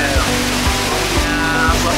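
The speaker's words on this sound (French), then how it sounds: "c'est mouillé, il pleut, la rivière, tout" Rain pours beside a flowing river, making a steady, dense wash of water noise that fills the scene without break, with faint low thumps mixed underneath.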